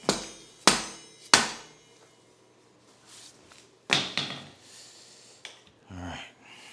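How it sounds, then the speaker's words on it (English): A small rubber mallet strikes a bicycle's threaded bottom bracket spindle in a garage, giving a few sharp separate knocks with pauses between them, followed by softer bumps and brief voices. "Got a little rubber mallet."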